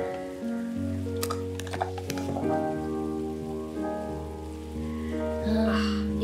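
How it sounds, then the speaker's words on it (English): Steady, gentle rainfall from the video game Behind the Frame patters over calm, sustained music tones, forming a soft continuous background. "the sound of the rain and the calm music, this is so nice"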